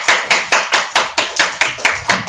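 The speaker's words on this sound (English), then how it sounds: "Can we give a big round of applause," Slow, evenly spaced claps sound after a breakfast talk on infrared imaging, about ten strong, close hand claps in a steady rhythm, loud and alone.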